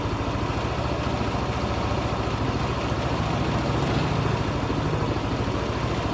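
Rough, steady idle of a Yamaha NMax scooter engine with a worn camshaft bearing, a dense low rumble with fast ticking pulses running evenly and close throughout, no voices.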